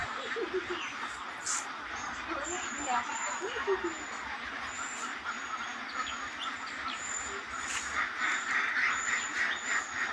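Indian runner ducks at a poultry hatchery in Ullapara, Sirajganj quack and honk in a busy flock, with overlapping calls over a steady background din and voices.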